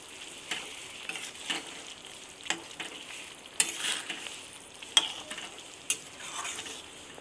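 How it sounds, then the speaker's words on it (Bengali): Chicken fries in a spiced gravy and gets stirred, a soft low sizzle broken by sharp periodic scrapes and clacks of the spoon against the pan, fairly faint and close. "এরপরে ওটাকে বেশ কিছুক্ষণ ধরে মাংসটাকে কষে নেবে"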